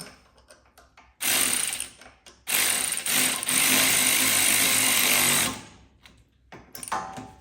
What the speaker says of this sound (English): Okay, I'm going to tighten these back down.